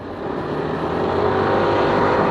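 A Yamaha NMAX 155 automatic scooter riding along a road, its engine a continuous steady drone that builds slightly louder, heard close and alone without talk.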